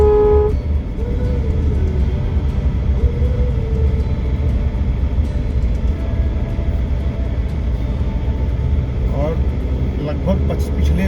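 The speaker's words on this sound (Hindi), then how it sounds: "फर्स्ट गियर ही जो है लगातार लगा पड़ा है।" A car engine labors steadily in first gear on a steep mountain road in Nepal, a continuous low drone heard from inside, with someone talking over it and a horn toot near the end.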